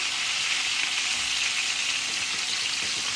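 Chicken pan frying in a skillet, a loud, dense, unbroken sizzle with faint crackles, close up and alone without talk.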